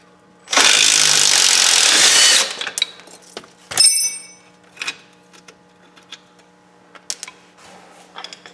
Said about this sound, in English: I'm just going to use an impact and then a wrench on the top, and then we should get those out.